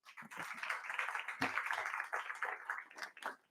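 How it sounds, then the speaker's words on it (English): Faint, distant-sounding audience applause at a youth summit, with a soft, steady patter of many hands clapping that swells briefly and then tapers off. "Please a round of applause."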